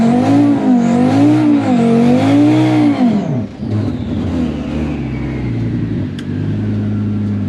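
Tuned Audi RS3 with a Unitronic TTE777 turbo setup doing a burnout at a drag strip: loud, close engine revving that wavers up and down with tire noise, then drops into a lower, steady roar.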